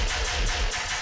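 A heavy, growling tearout-style synthesized bass, built from sine and saw waves, drones with a pulsing, wobbling rasp, dense and distorted, with no voices.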